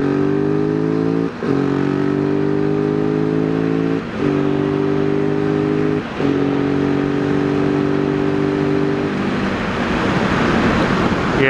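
A 2018 Husqvarna 701 SM motorcycle engine drones loudly and steadily while riding, its pitch climbing in long pulls broken by three brief dips at gear changes, then giving way to rushing wind noise near the end.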